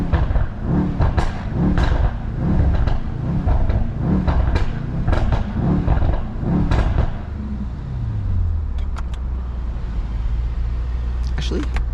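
A Mercedes-AMG E63S engine roars through a series of rhythmic revs close by, each burst rising and falling, then settles into a low idle rumble with a few faint clicks and voices in the background.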